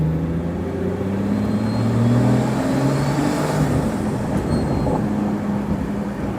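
Pagani Huayra Roadster BC engine droning steadily as it accelerates through the gears, a deep, continuous rising tone with road and wind noise, heard close with no talking.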